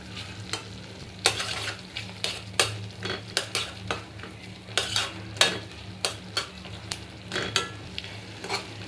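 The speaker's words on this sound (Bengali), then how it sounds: "এখন এগুলোকে খোসা ছাড়িয়ে ভালো মতো ভেজে নিচ্ছি" Peeled boiled tomatoes frying and being stirred in a pan, a steady sizzle punctuated by repeated sharp spatula scrapes and clacks against the metal in an uneven rhythm, close and fairly loud, with no talking.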